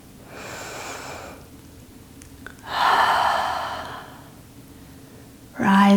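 Deep breathing during a yoga session: a slow audible inhale followed by a longer, louder exhale, close and soft, then the start of another breath.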